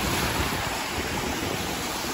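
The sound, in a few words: waves and wind on the lake shore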